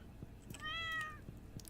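A cat in Stardew Valley gives a single clear, drawn-out meow over quiet game background sounds.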